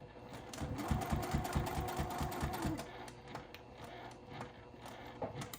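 A sewing machine stitches quilt binding on a small project up to a corner, a fast close run of needle strokes that slows and stops, followed by quieter handling.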